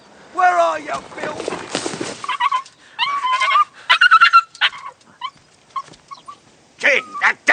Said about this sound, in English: that damn dog!